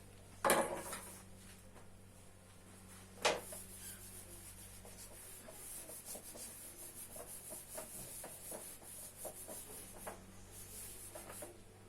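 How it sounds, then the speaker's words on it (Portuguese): A teacher erasing a classroom board, soft continuous rubbing strokes with a couple of sharper knocks early on, quiet and close with no talking. "Pausa teu vídeo, escreve direitinho, enquanto isso tia vai estar apagando"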